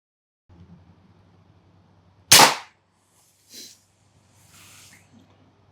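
A single sharp crack from an FX Impact M4 air rifle fired in a backyard, loud and brief, followed by a short breathy puff and faint rustling against quiet background hum.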